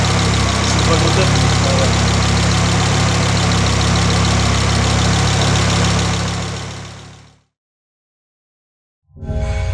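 An Audi S2 engine idles loudly and evenly up close, then fades out into silence before briefly starting up again.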